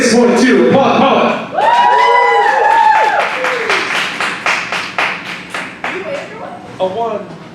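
A poetry slam audience in Dayton, Ohio, with loud voices and cheering up front, then a run of sharp, uneven claps and scattered whoops that tapers off toward the end.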